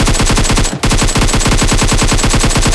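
Rapid, continuous automatic gunfire in the video game PUBG during a squad fight, loud and close, with only a brief break in the stream of shots.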